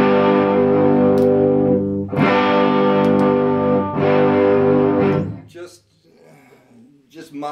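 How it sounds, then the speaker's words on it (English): An Electra X910 electric guitar, both pickups wired in series, plays three sustained distorted chords with a chorus-like shimmer, each ringing out and fading; a voice follows at the end. "Position one is both pickups in series. It's going to be slightly louder."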